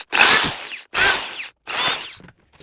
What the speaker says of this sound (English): we're going to drill the holes in the center because it's a lot easier to do with a bigger piece